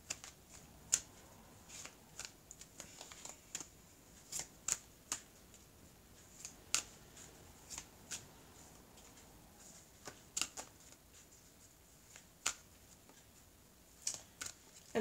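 A deck of tarot cards being cut and handled on a table, a quiet, close series of sharp card snaps and soft shuffling rustles at irregular intervals, with no talk.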